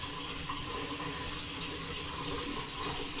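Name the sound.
water running from a bathroom sink faucet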